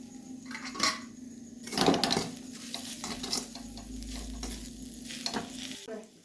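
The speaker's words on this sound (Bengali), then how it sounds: "নুন দিয়ে ভালো করে মশলাটাকে আরেকবার কষিয়ে নেব" Spice paste with ground cumin and salt sautés in a pan, sizzling steadily while a spoon stirs and scrapes through it in repeated strokes, close up with no voices.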